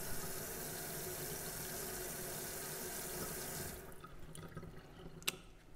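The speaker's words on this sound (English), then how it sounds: "Okay, we're rinsing the instruments again." Tap water runs steadily into a sink as dental instruments are rinsed, a broad continuous rush that cuts off near the end, leaving a few faint drips and clinks.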